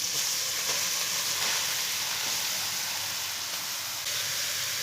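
Grated carrots frying in about half a cup of oil for gajrela give a steady, dense sizzle with a soft hiss, close and continuous, with no voices.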